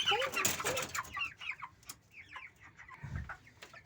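A 29-day-old chicken clucks during weighing, with soft repeated clucks and short calls close by in a quiet room, alongside a faint thump of handling.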